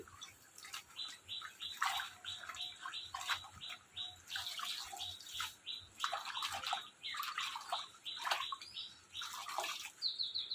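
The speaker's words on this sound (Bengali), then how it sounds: "আর এদিকে পাট শাকটাও ধুয়ে নিচ্ছি একবারে" Jute leaves are washed by hand in water, with irregular splashing and sloshing bursts at close range. Birds chirp steadily in the background.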